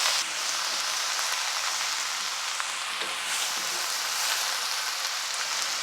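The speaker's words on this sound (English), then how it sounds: "I'm just going to start kind of scraping on the bottom and folding the onions into the cabbage." Cabbage and onions sizzle steadily in a pot, a dense close frying hiss with occasional soft scraping and stirring along the bottom, continuous throughout with no voices.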